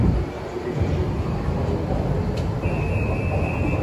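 A train rolls along a line in Denmark with a steady, moderately loud low rumble and a thin high whine that rises toward the end, running continuously under a faint voice.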